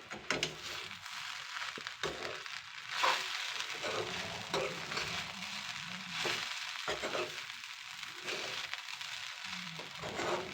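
Poha sizzles in a hot pan as salt and turmeric are stirred through it, a continuous frying hiss broken by repeated scraping strokes of the spoon.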